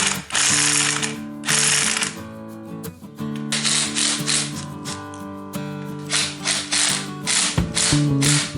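A ratchet wrench loosens a nut on a 2JZ-GTE engine: loud, close, rapid clicking in repeated bursts with brief pauses between strokes, and no talking.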